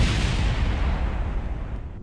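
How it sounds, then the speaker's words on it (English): Explosions in Kerbal Space Program: heavy rumbling blasts roll together in a dense, booming wash that gradually fades over a couple of seconds. "All kinds of stuff blowing up."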